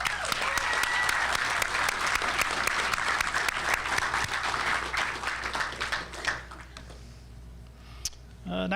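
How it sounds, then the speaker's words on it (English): A crowd applauds at a law enforcement training graduation ceremony, dense steady clapping that thins and fades after about six seconds, leaving a quiet room with a stray clap. "How about another round of applause?"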